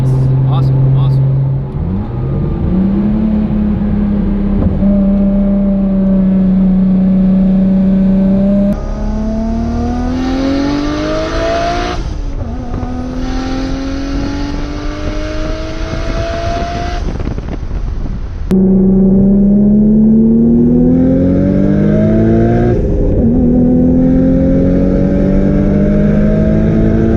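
Engine of a carbon fiber Nissan Skyline R33 GTS-T, rear wheel drive, with a Tomei RB25, revving and pulling through rising gears loudly and up close, with talk over it.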